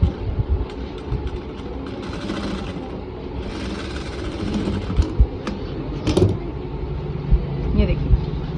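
A sewing machine stitches a pocket closed on a palazzo, running in a steady mechanical whir close by with some clattering throughout.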